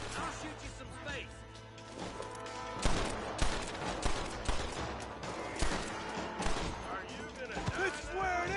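Gunfire from the Red Dead Redemption video game comes as repeated sharp shots and volleys in irregular bursts, loudest in the second half. Game characters talk over and between the shots.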